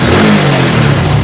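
Honda Supra X 125 injection motorcycle engine revving up close, a loud, steady mid-pitched roar that rises slightly as the throttle is held, with no voices.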